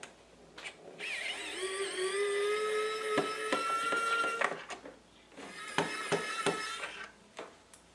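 A tool removes two screws from the feeder funnel of a Bambu Lab AMS unit on a 3D printer. Two close bursts of rising motor whine are each followed by sharp clicks and clatter.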